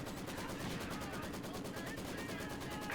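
Machine gun fire in Company of Heroes 2, a continuous, dense rattle of rapid shots across the whole stretch, loud and steady with battle noise mixed in.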